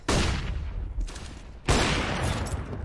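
Gunfire wallbangs in Counter-Strike on the Train map: two loud, dense bursts of rapid shots, one at the start and another a second and a half later, each trailing into a noisy echoing tail.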